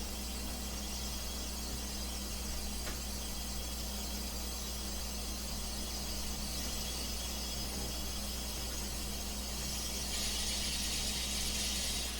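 A machine room ambience loop from The Outer Islands cue files: a dense, steady mechanical drone with a low hum and faint ratcheting and squealing detail, unbroken throughout, with no speech.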